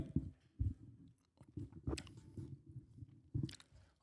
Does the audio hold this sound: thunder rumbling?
no